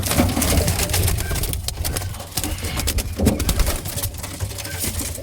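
Racing pigeons in a loft coo softly and repeatedly against a steady, noisy background with faint clatter.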